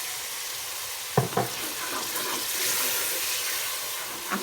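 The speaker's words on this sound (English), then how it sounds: "I will now add in a 1/4 cup of water" A quarter cup of water goes into a hot pan of chicken and pea korma with tomatoes and spices, giving a sudden splash followed by loud, steady hissing sizzle.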